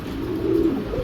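A domestic pigeon gives a low, rolling coo up close, a single drawn-out call rising and falling over about a second with no talk.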